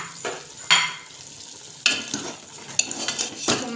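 Onion and tomato stirred into beef frying in oil in a pot, with intermittent scraping and clatter of a utensil against the metal over a steady sizzle, several sharp knocks standing out.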